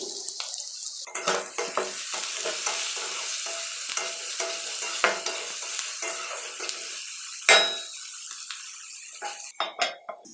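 Flattened rice fries in a pan while a utensil stirs and scrapes it, producing close, crackling sizzle with repeated clinks and scrapes against the pan.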